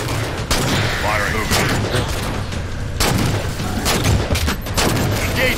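Gunfire in the Xbox video game Halo 4 erupts in repeated loud bursts and volleys. Battle noise and shouted radio voices run underneath.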